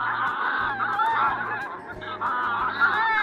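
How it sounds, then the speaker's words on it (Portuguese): Several geese honk loudly and repeatedly, overlapping calls close by with a low rhythmic hum underneath. "Ganso. Os gansos são parentes de cisnes e patos."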